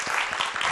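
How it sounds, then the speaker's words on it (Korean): A studio audience applauds to welcome Min Seong-won, head of the Min Seong-won Institute, on a science program: a short, dense patter of clapping, even and moderately loud. "큰 박수로 맞이해 주세요."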